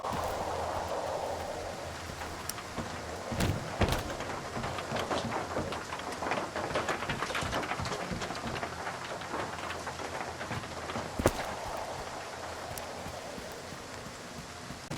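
Rain drumming on metal in a video game played on a gaming PC: a steady dense patter with scattered sharper plinks and knocks throughout, moderately quiet and continuous, with no voices.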